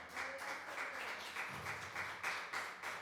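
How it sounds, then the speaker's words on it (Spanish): Congregation applauding during a Spanish-language church sermon, a quiet, steady patter of many hands clapping at a distance, fairly faint and even, with no talk over it. "Denles aplauso al Señor."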